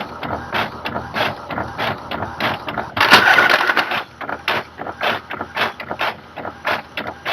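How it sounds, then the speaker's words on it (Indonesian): A network-shared printer printing a page makes a rhythmic series of mechanical clicks and whirs, with a louder burst of paper-feed grinding midway before the steady clatter resumes. "Lihat tuh, printing."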